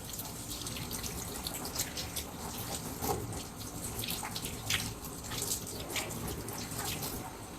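Hands being rinsed under a running tap make a continuous, close splashing water sound for the whole stretch, with small fluctuations as the hands move through the stream and no voices.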